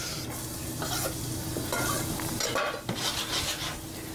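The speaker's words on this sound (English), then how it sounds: "I'm using a non-stick pan because the fish is very fragile" Fragile fish frying in a non-stick pan, a soft steady sizzle under light clinks and scrapes of a utensil against the pan, close and quiet, with no talking.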